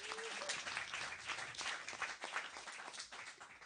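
Audience applause at a community town hall, a continuous wash of many hands clapping, fairly faint and distant, holding steady throughout.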